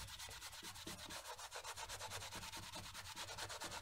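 Fast, light rubbing strokes polishing a leather surface, a rapid regular swishing rhythm of about six or seven strokes per second, close up and fairly quiet, with no voices.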